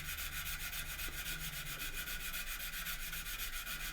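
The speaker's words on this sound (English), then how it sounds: "It's not a hard surface to sand, because this is where the talc has done its bit" Sandpaper works over a cured mix of CA super glue and talcum powder in a steady, continuous rhythmic rasp. The scratching is close and even for the whole stretch, with no talk.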